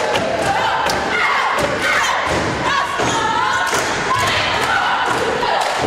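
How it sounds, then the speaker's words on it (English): Cheerleaders and a girls' basketball team face off in a cheering competition at a high school game, loud crowd shouting and cheering continuously with thumping stomps and claps throughout. "We have a little a cheering competition right now. The cheerleaders versus the girls girl basketball team."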